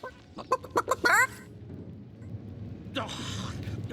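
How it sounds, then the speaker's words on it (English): A rooster clucks in the video game Divinity: Original Sin, giving a quick series of sharp, close clucks followed by a squawk, with game ambience continuing faintly afterward. "Don't let that rooster escape!"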